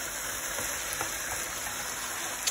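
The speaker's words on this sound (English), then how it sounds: "And that's being cooked in olive oil." Bluefish frying in olive oil in a pan, a steady close sizzle and crackle with no pauses, high insect-like whine in the background.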